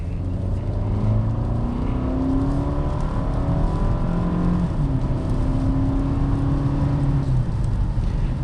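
A 2022 Toyota Camry SE engine accelerates while driving on a rainy street, a steady interior drone whose pitch climbs through the gears with a brief shift dip, alongside road and rain noise.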